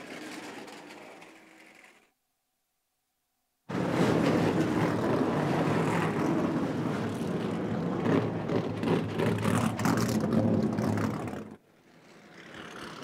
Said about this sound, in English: Oh, that natural sound of race cars.